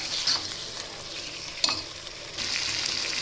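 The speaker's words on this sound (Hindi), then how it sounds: "अब ये अच्छी तरह से पकने लगा है तो इसे हम 1-2 मिनट तक पकाएंगे।" Masala-coated fish sizzles in a frying pan, a soft hissing fry that dips and swells, with one sharp tap near the middle, close up and fairly quiet, no talking.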